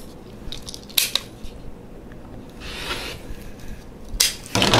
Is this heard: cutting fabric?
yes